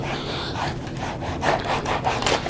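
Seams of leather motorcycle chaps are scrubbed during cleaning, making a close, steady rasping rub in quick repeated strokes that pulse slightly louder toward the end.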